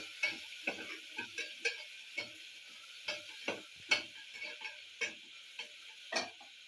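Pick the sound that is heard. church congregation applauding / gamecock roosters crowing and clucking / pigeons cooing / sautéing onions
sautéing onions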